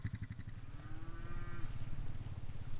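Mashona cattle low on a farm pasture, with a long drawn-out moo rising over a background of other animals and a steady high insect-like whine, fairly close and without talk.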